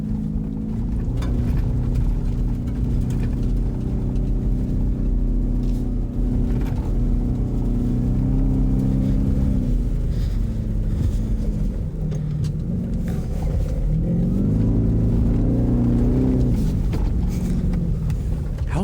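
Ford Raptor R off-road truck pounding over whoops and sand, its supercharged engine droning loud and continuous with rising and falling pitch as the blower whine climbs, plus rumbling chassis noise throughout.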